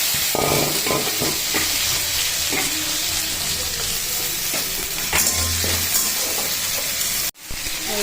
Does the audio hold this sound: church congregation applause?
no